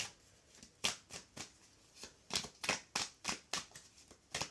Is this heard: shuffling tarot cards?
yes